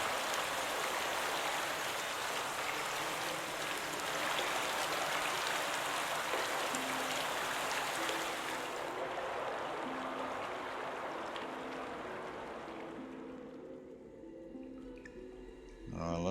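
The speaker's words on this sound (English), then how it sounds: "And then I'm going to turn on the water." In the video game Obduction, water rushes steadily after being turned on, a dense, loud hiss that holds for several seconds, then thins and fades away while soft tonal notes emerge underneath.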